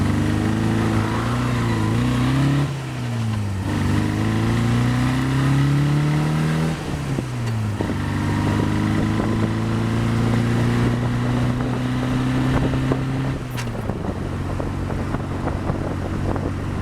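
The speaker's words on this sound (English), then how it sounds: "as you can see, the car is going" A Frogeye Sprite with a swapped-in engine, gearbox and axle drives along, its engine note rising and falling through several gear changes, loud and close with wind buffeting the microphone.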